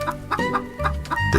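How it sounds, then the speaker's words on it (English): A hen clucks repeatedly in quick, uneven bursts, close and fairly loud, with no talking. "Come on, my pretty chicken. Give me a golden egg."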